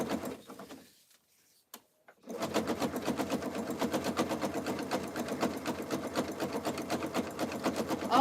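Sewing machine stitching a jelly roll rug, with a brief stop-start and a short pause before settling into a rapid, even mechanical clatter that runs steadily to the end.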